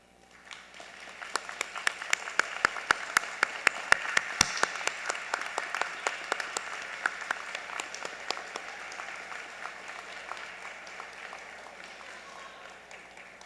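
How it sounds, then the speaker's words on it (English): An audience at a university honors convocation applauds for over ten seconds, individual claps crisp and dense at first, swelling briefly, then thinning and fading gradually in a large hall. "will you please stand as we applaud you?"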